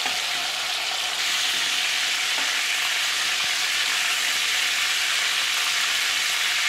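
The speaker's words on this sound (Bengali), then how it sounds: "জাস্ট একটু রং চেঞ্জ হওয়া অবধি এটাকে ভেজে তুলে নেব" Prawns sizzle steadily in hot oil in a Bengali kitchen while being fried for chingri ghonto, a constant bright crackle and hiss that stays close and even throughout, with no voices over it.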